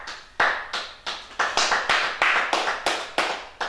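A church congregation applauds the Lord in a steady rhythmic clap, about a dozen sharp, evenly spaced claps, close and clear with no talking.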